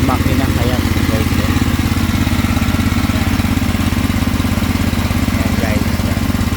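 An engine-powered well drilling machine runs steadily with a constant, loud, throbbing mechanical drone, while people talk faintly in the background.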